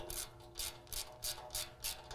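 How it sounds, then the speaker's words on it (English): A ratchet wrench tightening the rear bumper bolts on a 2015–17 Chevy Silverado 2500, a close, regular series of about seven bright ratcheting clicks at an even pace, with no talking. "we're going to take the rest of our hardware, and tighten those down"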